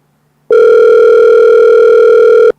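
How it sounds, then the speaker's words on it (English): A telephone gives one loud, sustained electronic tone of about two seconds, starting and stopping abruptly, alone with no talk. "Oh the phone now ring."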